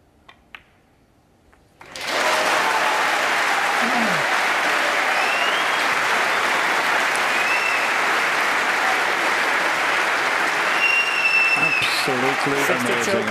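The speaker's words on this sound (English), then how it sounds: "what a fantastic round of applause for just potting that red there" Snooker crowd at the 2018 Masters semi-final breaking into loud, sustained applause after a potted red, a dense wash of clapping that starts abruptly and holds steady, with a commentator talking briefly over it.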